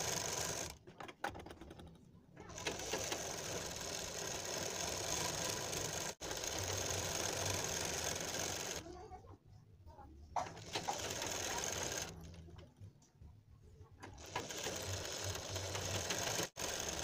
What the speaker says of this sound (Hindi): इस प्रकार हम लौट के यहाँ किनार पर लगा देंगे एक सिलाई